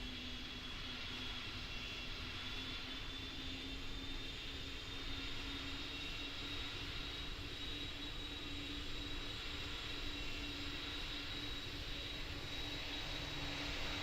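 Airplane engine in the Roblox flight simulator Pilot Training Flight Simulator (PTFS), a steady continuous drone with a sustained tonal hum and a faint high whine, holding level throughout with no talk.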